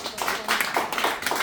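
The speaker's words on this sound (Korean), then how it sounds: "우리 홍순자 총무님 박수 한번 보내주시면 고맙겠습니다" Audience applause at a year-end concert, a brief, steady burst of many hands clapping, fairly close and filling the room without pause.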